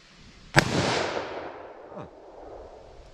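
A single loud, sharp gunshot from a snub-nosed revolver firing .327 Federal soft point rounds, close to the listener and followed by a long rolling echo that fades away.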